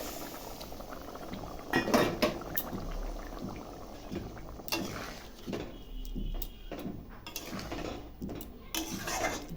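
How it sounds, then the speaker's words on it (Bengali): Egg curry with new potatoes simmering in a pot with hot water, giving a continuous bubbling hiss beneath intermittent clanks of utensils and pot handling, close by, with no talking. "ডিমের ঝোলটা কিছুক্ষণ ফুটুক।"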